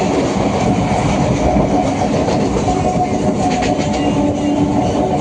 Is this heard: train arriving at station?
yes